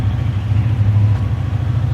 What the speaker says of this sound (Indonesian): Mesinnya menggunakan V-twin ya, jadi sisi kiri dan sisi kanan knalpot itu pasti hidup dan suaranya seperti ini.